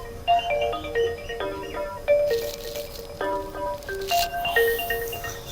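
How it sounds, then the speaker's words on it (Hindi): Phone ringtone playing a bright, repeating electronic melody of short tonal notes in a rhythmic pattern, moderately loud over a quiet background. "सुन लो ज़रूरी फ़ोन है"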